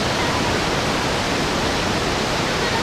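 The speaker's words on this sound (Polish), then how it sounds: "jest to najpopularniejszy, najbardziej znany wodospad w całym Ekwadorze" Roaring 80-metre waterfall in Ecuador, a loud, continuous broadband rush of falling water heard close and steady with no voices.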